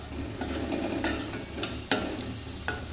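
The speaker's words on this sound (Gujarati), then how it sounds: "લીલું લસણ, હલાવો." Green garlic is stirred in a pan on the stove, with a faint sizzle and a handful of sharp spatula clicks against the metal spaced irregularly over a few seconds.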